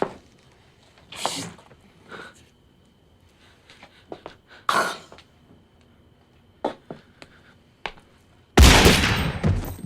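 Gunshots in a TV drama scene where a woman grabs a gun and shoots a man, several sharp isolated bangs scattered through near silence, then a loud sustained burst at the end.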